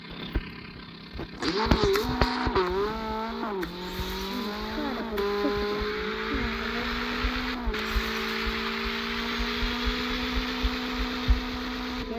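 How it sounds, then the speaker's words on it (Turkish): Cars being smashed in a car-crushing video game, with a droning engine tone that rises and shifts in pitch, sharp crunching impacts near the start, and a steady mechanical hum continuing to the end. "bugün üç tane arabayı parçalayacağım"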